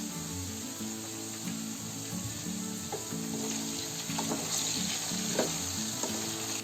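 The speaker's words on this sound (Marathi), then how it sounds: "आता इथे आपली लसूण फ्राय होते" Garlic fries in a pan over a medium gas flame, giving a steady, close sizzle with occasional light stirring scrapes throughout.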